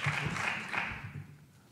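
Audience applause at a 36th General Assembly District debate in Connecticut: a dense, steady wash of clapping that holds strong, then begins to thin and fade toward the end.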